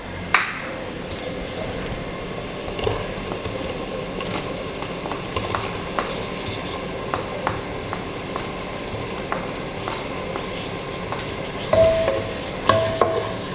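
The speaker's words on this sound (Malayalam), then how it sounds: "തക്കാളി ഒന്ന് വേവുന്ന വരെ ഒന്ന് വഴറ്റി കൊടുക്കുക" Tomatoes sautéing with onions and ground spices in a pan for chicken biryani, a continuous close sizzle broken by repeated stirring scrapes and clinks of a spoon against the pot, growing busier near the end, with no voices.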